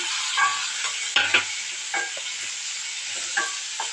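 Onions sauté with tomato in a pan, making a steady bright sizzle with a handful of spatula scrapes and stirs, close and fairly loud with no talking.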